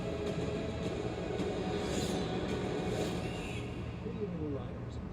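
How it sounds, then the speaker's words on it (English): A train passes with a steady, loud rolling rumble and faint rail noise, sustained throughout without pause. "It's hard to stop a train."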